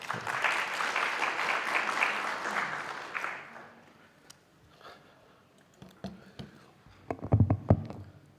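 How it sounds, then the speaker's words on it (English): Applause from the audience for a panel at a college policy conference fills the room for about three seconds, then fades into scattered claps, shuffling and light room noise, with a few louder thumps near the end. "Let's give them a round of applause."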